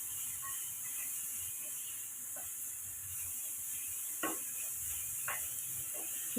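Radish is sautéed with salt in a pan, giving a quiet, steady sizzle under a hum, with a few sharp spatula scrapes and taps.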